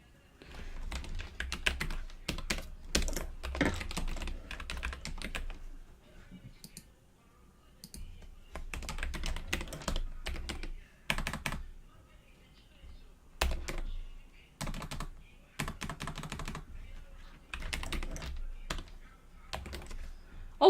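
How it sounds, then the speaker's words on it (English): Rapid clattering keystrokes on a computer keyboard, typed in bursts with short pauses between them, fairly close and crisp. "Also, we can do a typing test."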